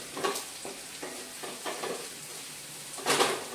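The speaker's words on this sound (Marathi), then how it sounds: "हा पटापट पटापट हलवून घे" Spices being stirred quickly in a frying pan for a home-cooked dish, with a soft steady sizzle and several scraping strokes of a spoon against the pan, the last stroke louder, with no talking.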